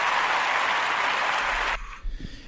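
A burst of dense applause-like clapping plays loudly for about two seconds, then cuts off abruptly, leaving a brief low thump and near-silence.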